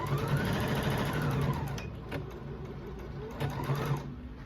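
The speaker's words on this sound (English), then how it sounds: "I'm going to put them right sides together and sew them end to end." A sewing machine joins 2-inch fabric straps end to end, running in a close, steady mechanical whir with brief slowdowns and restarts between bursts of stitching.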